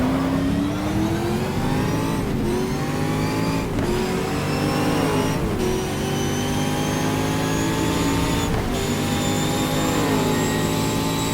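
Race car engine in the GTR2 racing game at Circuit Gilles Villeneuve, holding a loud steady high drone with repeated upshifts and downshifts, pitch dropping at each gear change several times, with no talk over it.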